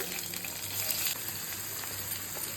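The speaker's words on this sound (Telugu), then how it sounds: "ఇవన్నీ పోపు వేగాయి" Dry red chilies, onions and curry leaves frying in hot oil for tempering, a steady close sizzle with a faint low hum underneath.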